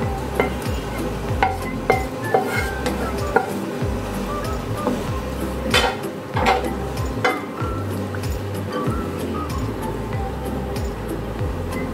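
Lightly fried onion and capsicum are stirred into kadai paneer in a pan, with repeated clattering scrapes and spoon knocks over a steady background of sizzling.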